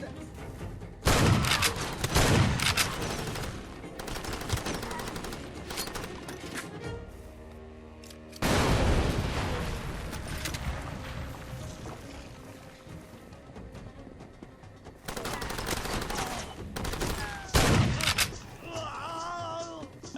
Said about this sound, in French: il nous a tiré dessus à la mitrailleuse lourde